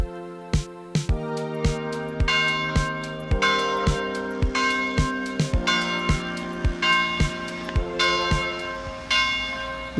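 Church bells in Valbonne ring loudly and close, repeated clangs in a steady rhythm with long ringing overtones overlapping throughout, no voices.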